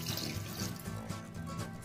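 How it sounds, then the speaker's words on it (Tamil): Water splashes and pours steadily into a pan close by while making egg biryani, a continuous wet rushing that lasts the whole moment with no voices. "அந்த கிரேவி செஞ்ச வானல கழுவி அந்த தண்ணியை இதுல ஆட் பண்ணிக்கிறோம்"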